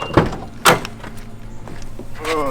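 The door handle of a Toyota Supra or Nissan GT-R is pulled. Two sharp clicks and thunks come close together, followed by a softer rustle and a faint mechanical whir.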